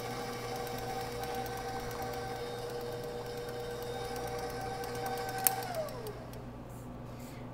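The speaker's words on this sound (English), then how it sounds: "I have my butter creaming on my stand mixer, and I'm going to be adding my granulated sugar." A stand mixer creams butter with granulated sugar for whoopie pie batter, giving a steady mechanical whir with a constant motor tone that drops in pitch near the end, heard alone at moderate volume.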